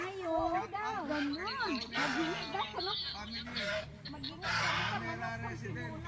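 Native darag chickens on a farm in Palayan City, Nueva Ecija, clucking and calling close by, with people talking over the birds throughout.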